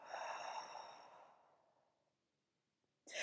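A single long breath is blown out through the mouth during a Pilates exercise, close and breathy, fading gradually to near silence before a short sharp noise cuts in at the end.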